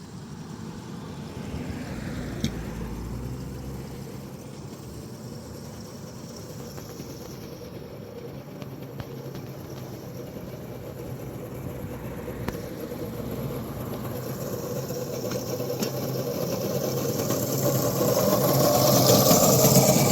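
A small wood pellet train engine struggles uphill at full throttle toward a sugar house. It gives off a steady, strained mechanical whir with clicking, and the drone grows louder and brighter toward the end.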